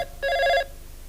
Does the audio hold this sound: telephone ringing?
yes